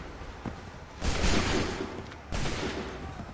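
Musket volleys in the Assassin's Creed 3 video game: two loud, crackling bursts of massed gunfire, each with a rumbling tail, the second close after the first.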